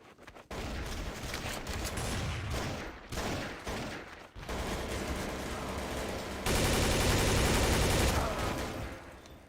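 Rapid automatic gunfire sprays in bursts in the video game Counter-Strike: Source, loud and close with short gaps between volleys.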